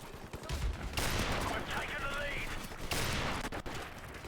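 Sniper rifle fire in the shooter game H1, an R700 with an ACOG sight, with loud sharp cracks near 1 and 3 seconds over steady game ambience and faint talk.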